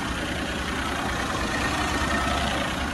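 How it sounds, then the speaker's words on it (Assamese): A used Maruti car's engine idles with a steady, low rumble, continuous with no speech, holding an even level throughout. "ইঞ্জিনৰ সাউন্ড শুনাই দেখিছে"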